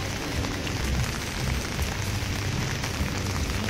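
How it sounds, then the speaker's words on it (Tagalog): Night rain falls steadily outside Hotel Venice in Baguio City, a close, continuous patter and hiss of drops on surfaces with no break and no talk. "It's raining here."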